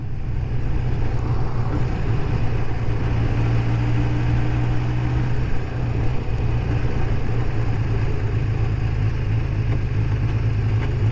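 A Kawasaki GPZ600R motorcycle on a short road test ride after a rebuild, its engine droning steadily and close for the whole stretch, rising and settling as it runs up and down through the gears, with no talking.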